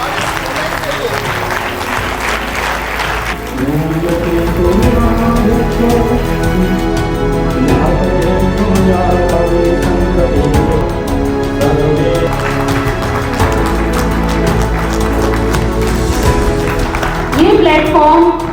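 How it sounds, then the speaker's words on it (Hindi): Loud applause from the audience at a student award event, rising after a few seconds into steady, full clapping that continues to the end, with faint talk underneath. "एक बार जोरदार तालियां सबके लिए और स्टूडेंट के लिए"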